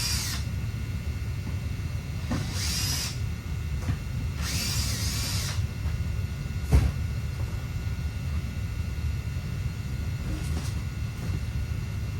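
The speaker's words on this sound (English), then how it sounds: "usually you can use a 5/16 drill bit to take off the panel" A power drill with a 5/16 bit works the panel screws on an air handler unit during HVAC preventive maintenance, giving several short whirring bursts with pauses between them over a steady mechanical hum.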